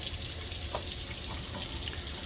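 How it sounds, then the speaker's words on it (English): A sink tap runs steadily at warm, adjustable flow for handwashing, a close, continuous hiss and splash of water with no pauses and no talking. "Next, we will turn on the water."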